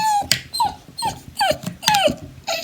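A house dog left at home gets agitated by a man at the door, giving a quick run of sharp, whining yelps and barks, close and excited, repeated about half a dozen times with no one talking.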